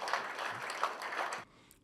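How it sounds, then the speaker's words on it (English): A crowd at a government executive-legislative gathering applauds with dense, continuous clapping that cuts off abruptly after about a second and a half, leaving near silence. "I think the government deserves another round of applause."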